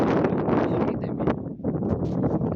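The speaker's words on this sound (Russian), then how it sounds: "А то ветер сильный, мешает снимать." Strong, cold winter wind in Anapa buffets the microphone with a loud, continuous roaring rumble that surges and dips, with a faint voice underneath.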